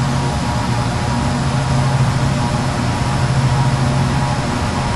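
Twin turboprop engines of a Jetstream 41 in the Prepar3D flight simulator run at takeoff power, a loud, constant low drone with steady broadband roar and no breaks.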